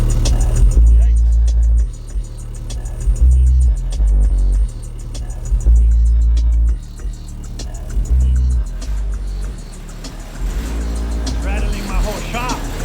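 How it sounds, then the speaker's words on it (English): Heavy, booming low-end bass pumps from a newly installed aftermarket sound system in a 2021 Ram 1500 truck played at max volume inside a shop, with deep throbbing pulses that swell and drop rhythmically and loudly throughout. "This is now the bass."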